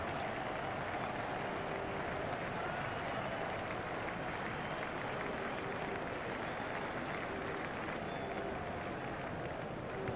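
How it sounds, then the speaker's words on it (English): Stadium crowd in EA Sports Cricket 07 applauding and cheering a boundary in a South Africa versus Bermuda match, a steady dense roar of clapping and noise held at constant loudness throughout. "Crowd were brought to their feet by that shot"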